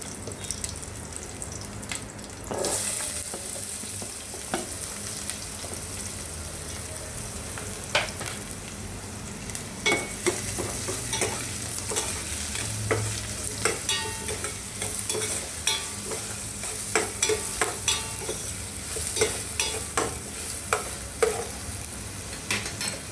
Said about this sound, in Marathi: फोडणी जरा चांगली खमंग झाली तर त्याच्यावर कांदा टाका